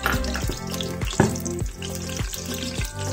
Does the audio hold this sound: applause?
no